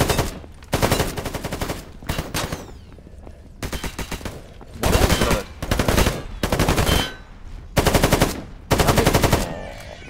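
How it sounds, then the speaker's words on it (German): Bursts of automatic gunfire in S.T.A.L.K.E.R. GAMMA as several shooters empty their magazines, loud, close rattling volleys separated by short pauses, repeating about eight times. "da schießen fünf Leute ihre Magazine leer"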